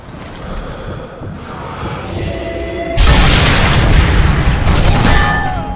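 A gunshot in the World War II sniper game Sniper Elite 3 comes as a loud, booming blast that jumps in abruptly and rolls on as a sustained rumble over a quieter ambient bed.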